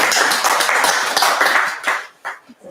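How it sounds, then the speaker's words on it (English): Wedding guests clap briefly during a UK ceremony, a dense burst of close hand claps that thins and breaks off into a few scattered claps at the end. "We have a little clap."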